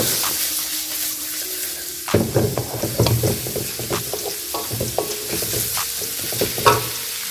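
Chopped shallots fry in hot oil with a squid fry in progress, a soft sizzle broken up by repeated scraping stirs of a spoon against the pan, close and busy with no talking.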